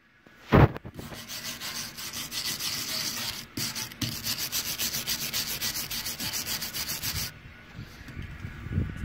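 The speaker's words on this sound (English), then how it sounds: "Scrubbing my way around all the nice little delicate areas." Hand tool scrubbing around delicate areas of a workpiece, continuous close rubbing strokes after an initial sharp knock, with a brief pause midway.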